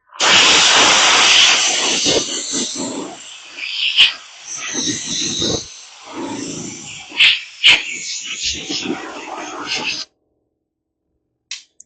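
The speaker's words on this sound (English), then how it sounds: "Take my airline with the air nozzle." Compressed air blasting from an airline nozzle during paint prep on a 1968 Plymouth Road Runner, a loud sustained hiss in repeated bursts of varying length, then stopping abruptly near the end.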